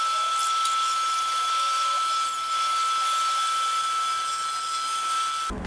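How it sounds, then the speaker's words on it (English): Steady high-pitched whine of a bandsaw cutting out a mallet shape from scrap wood, continuous and close, stopping abruptly at the very end. "I'm going to cut most of it out on the bandsaw"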